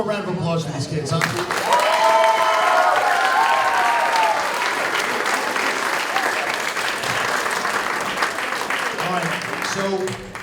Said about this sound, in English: How about one more round of applause for these kids